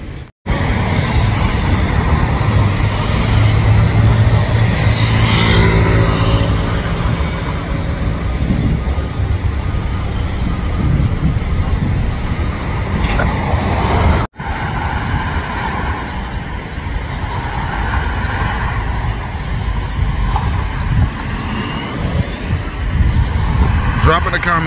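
A passing car drives by loud and close amid steady road and traffic noise, with people talking over it throughout.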